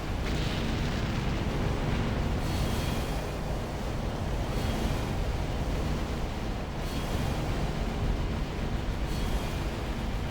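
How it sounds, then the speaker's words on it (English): A huge explosion in Armored Core 4 rolls on as a loud, sustained roar and rumble, like crashing surf or wind, with surges and fades lasting the full length and no talk. "Going to explode."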